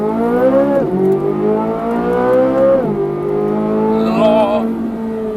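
A Ferrari 458 engine revs hard, its loud, smooth tone climbing in pitch and falling back in about three separate sweeps, heard alone and close.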